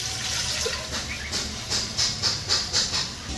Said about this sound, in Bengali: কুকার গরম আছে, এই কুকারের মধ্যে আমি কিছুটা জল দিয়ে দেব, জলটা গরম হয়ে যাবে।